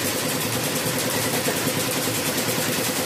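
A Tajima embroidery machine runs continuously with a dense, rapid mechanical chatter and steady hum, loud and even throughout with no pauses.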